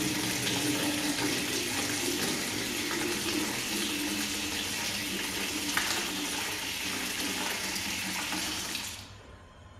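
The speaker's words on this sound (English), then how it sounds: "Then open the water drain at the bottom of the tank." Water rushes steadily out of the drain valve at the bottom of a water heater tank, a continuous hissing splash that cuts off abruptly near the end.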